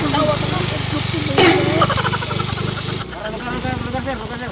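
A motorcycle engine idles close by in a steady low rumble, with voices talking over it and a brief louder burst partway through.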